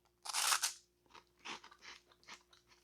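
Loud, close crunching as a large puffed corn cheese snack log is bitten, then several lighter crunchy chews follow in uneven bursts, with no talking.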